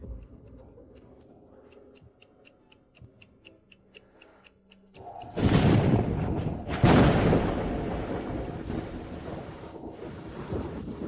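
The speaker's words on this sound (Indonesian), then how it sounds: "Hujannya deras sekali." A steady clock tick plays alone at first, then heavy rain bursts in loudly with a rumble of thunder and keeps pouring as a dense, close roar.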